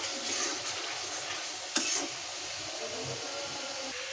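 Spice paste of ginger-garlic, dried chili, green chili, onion and turmeric frying in oil for mutton bhuna, with a continuous even sizzle, moderately quiet and close, one sharp clink of a spoon midway, and no talk.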